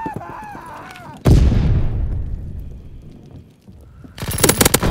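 Bombing run in Call of Duty: WWII: a clipped radio voice, then a sudden heavy explosion that roars and slowly fades into rumble, followed by loud rapid crackling blasts near the end.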